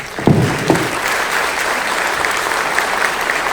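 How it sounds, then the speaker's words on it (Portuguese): A panel audience applauds steadily, a dense wash of clapping that stays even throughout after a couple of louder thumps at the start. "Uma salva de palmas."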